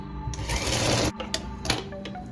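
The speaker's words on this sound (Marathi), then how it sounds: "तर आपण ह्यासाठी डबल शिलाई घालणार आहे मी।" A sewing machine runs a double line of stitching along the shoulder seam of a baby vest, buzzing steadily up close for about a second, then stopping with a few clicks and short bursts as the fabric is adjusted.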